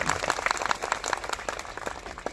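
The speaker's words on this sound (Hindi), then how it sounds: "आप में जितनी भी ताकत है उतनी ताकत से एक बार दिल की गहराइयों से जोरदार तालियां होनी" A crowd at a motivational achievers' event in Uttarakhand gives loud, sustained applause, dense and steady clapping running through the whole moment with no voices over it.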